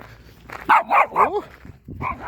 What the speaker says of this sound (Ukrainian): хороший, гарний песик, гарний песик оберігає